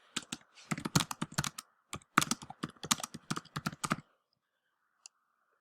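Rapid computer keyboard typing in quick, uneven bursts of clicks for a few seconds, then silence broken by one last faint tap.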